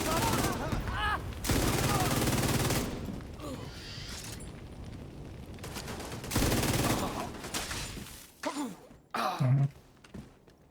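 Bursts of rapid gunfire from a video game sniper rifle and other weapons, loud and dense for several seconds, then thinning into separate shots and impacts.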